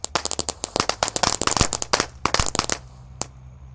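Firecrackers exploding on Takbiran night, a dense rapid string of sharp loud cracks for nearly three seconds, then one last isolated bang and a fading hiss.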